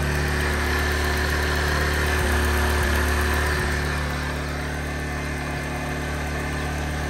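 A 2022 Bajaj Platina motorcycle engine idles steadily nearby, a loud, even mid-pitched putter with a constant vibrating drone and a slight drop in level partway through.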